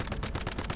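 Rapid bursts of automatic gunfire in the survival shooter game Once Human, fired during a fight against the tentacled boss Manibus, loud and close with a quick, even rhythm of shots.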